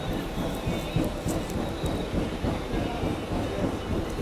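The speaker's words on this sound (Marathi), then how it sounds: "आपण त्यामुळं कल्याण ट्रेनमध्ये बसलो" Steady low rumble and rhythmic clatter of a moving Mumbai local train bound for Kalyan, heard from inside a nearly empty carriage, with no talking.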